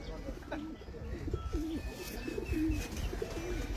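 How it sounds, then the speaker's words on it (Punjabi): Lakha pigeons cooing close by, a run of low repeated rolling coos over a soft background murmur. "ਇਹ ਲੱਖੇ ਕਬੂਤਰ ਨੇ ਦੋਸਤੋ"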